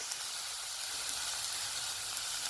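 Onions and curry leaves cook in hot oil for a ridge gourd masala with an even, hissing sizzle that stays steady and close throughout, with no other sounds.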